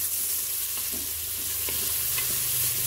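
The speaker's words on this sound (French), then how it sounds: "Je remue de temps en temps" Sausages, peas and bacon sizzle in a Cookeo while being stirred, a constant close crackle with soft scraping strokes of a utensil and no voices.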